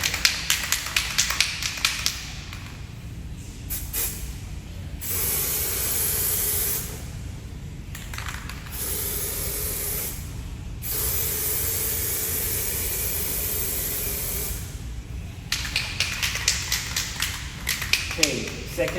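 Plasti Dip sprayed from an aerosol can onto a car's side trim in repeated broad hissing bursts with short gaps between passes, close and steady, with small tapping sounds at the start and end.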